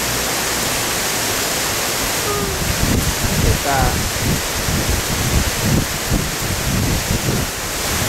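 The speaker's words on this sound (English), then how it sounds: "That's crazy amount of rain." Heavy rain pours in a steady, dense hiss at a train station in Tsuwano, Japan, with a person briefly speaking over it.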